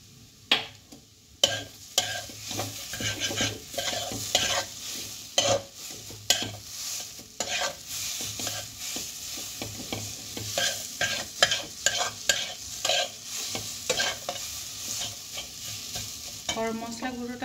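Pea kachori filling with garam masala is stirred in a frying pan, a spoon scraping and knocking in uneven strokes over a steady close sizzle.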